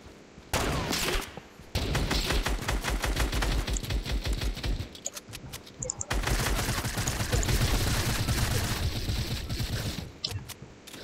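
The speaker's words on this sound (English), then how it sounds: "We're locked in a dangerous sniper battle." Fortnite gunfire crackles in dense, rapid bursts during a sniper battle, loud and nearly continuous with short gaps, with faint voices talking underneath.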